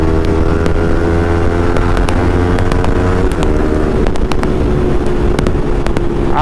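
A Yamaha MT-15 fitted with an Akrapovic exhaust is ridden at night, its engine droning loud and constant with a steady tone, wind buffeting the microphone throughout and small ticks scattered over the noise.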